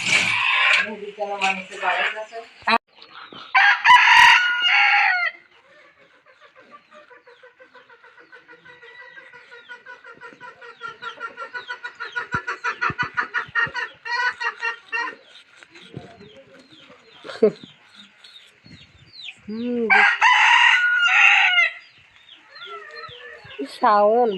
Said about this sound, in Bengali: মা আমাদের জন্য একটা মুরগি বা মোরগ ধরছে